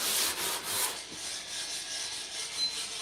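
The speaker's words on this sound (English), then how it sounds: "Yeah, I just sand this up." Sandpaper rubs over the wooden gunwales of a canoe, a close, steady hissing scrape with rhythmic strokes fading slightly after the first second.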